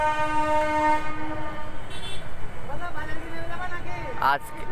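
A local electric MEMU train on the Krishnagar–Amghata line rolls past with a steady mechanical rumble while a long horn tone sounds at the start; a brief whistle-like sweep comes near the end.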